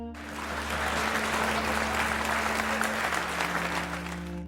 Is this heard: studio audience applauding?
yes